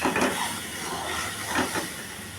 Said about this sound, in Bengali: এই দিয়ে এখন মশলাটা ছেড়ে দিলাম, একটু জল দিয়ে মিলিয়ে ছাড়লাম